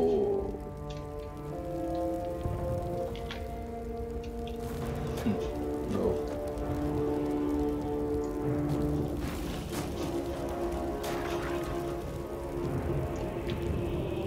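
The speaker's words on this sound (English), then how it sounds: "Can we let it rain?" Steady rain falls throughout in the Baldur's Gate 3 video game, an even patter over sustained tonal background sounds, with no pauses.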